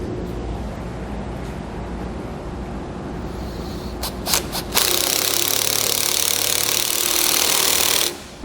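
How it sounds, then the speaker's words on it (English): A self-tapping screw is driven into the bracket of a Solera slide-out awning on a 2019 Keystone Impact RV, with a power driver whirring loudly for several seconds after a few short bursts, then stopping abruptly. "Self-tapper, we're going to install it into the bottom of the hole"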